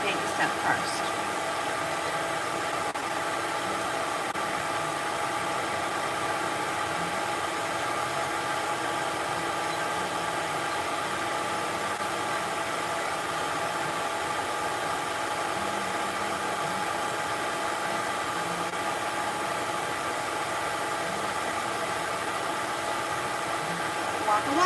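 A pet grooming dryer blows steadily on a short-haired cat, a continuous even whooshing hum that holds at the same level from start to finish.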